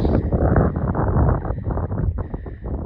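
Heavy, loud, cold wind on a mountain top near Canyonlands, Utah, buffets the microphone in a continuous roar with gusty surges, no other sounds standing out.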